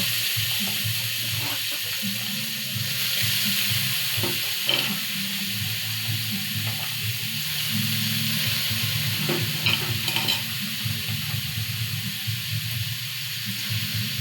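Carrots frying in ghee with cardamom, stirred in a pan: a steady close sizzle runs throughout, with scattered scrapes and knocks of the spoon and no talking.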